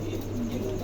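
A male Andalusian pigeon gives a brief, low coo, close and clear over a steady background hum.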